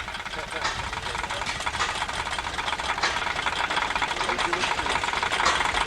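An antique tractor or steam engine chugs steadily at a busy outdoor show, its rhythmic knocking running continuously under background voices and crowd chatter.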